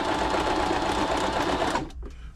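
A Bernette b35 sewing machine stitches fabric without a buttonhole foot in a fast, loud, continuous whir, then stops abruptly near the end.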